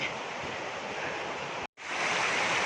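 The Air Terjun 7 Bidadari waterfall in North Aceh roars close by as a dense, steady wash of rushing water, broken only by a brief dropout near the end.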